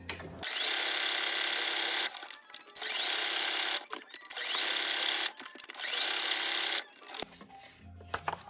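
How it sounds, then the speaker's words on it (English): A sewing machine stitches a fabric pocket piece for a handmade journal in four loud, rapid bursts of mechanical whirring, separated by short pauses, with faint handling noises at the end. "I think I'm gonna sew on this real quick, and we might use it as a pocket."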